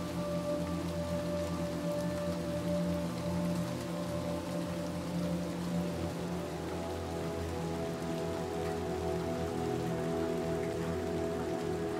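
In Little Nightmares 2, an outdoor rainfall patters continuously over a sustained low ambient drone, unchanging and moderately quiet, with no one speaking.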